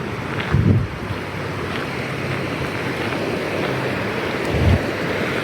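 Fast-flowing water at a campground, a steady broadband rush that is loud and continuous, with gusty wind buffeting the microphone near the start and again near the end.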